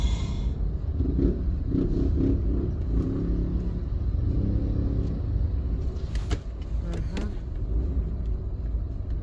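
A car driving on a road at night behind a truck, a continuous low engine and road rumble with some revving and passing traffic noise throughout.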